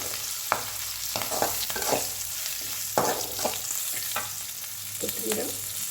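Spices fry in a pan for jeera rice as a constant close sizzle, with a spoon stirring and scraping in repeated strokes and no voices.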